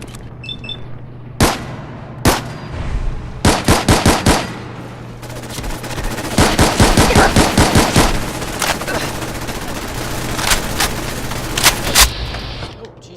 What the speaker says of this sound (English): Allie, shoot the damn thing!